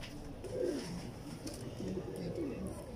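Prize racing pigeons at a Lahore loft coo in soft, low, rolling calls that repeat through the moment, close and steady against background murmur.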